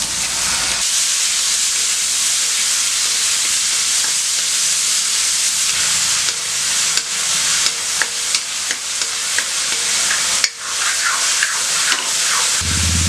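Chopped tomatoes hit a hot pan of onions with a sudden loud, hissing sizzle that carries on evenly, with scattered scrapes and taps of a spoon stirring.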